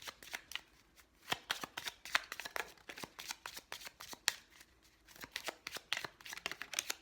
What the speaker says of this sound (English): that's also why I shuffle on screen